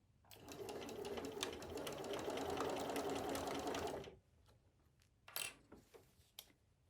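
A sewing machine stitches and backstitches double fold bias binding around a small circle. A close, fast burst of stitching lasts about four seconds, followed by quiet with a few light clicks and handling taps.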